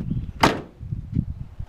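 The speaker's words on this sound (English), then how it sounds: "Door shut great." A single solid car door shuts on a 1986 Buick Grand National, one sharp, close thump against a low idle-like background rumble, with a fainter knock a moment later.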